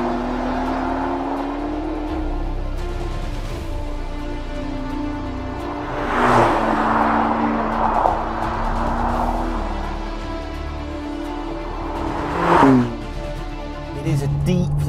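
The McLaren Artura hybrid supercar drives along with a steady engine drone that swells twice into brief louder revs before settling back, heard from inside or close by.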